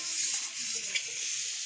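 Food frying in a pan gives a steady close sizzle, with a scrape of stirring near the middle and no talk.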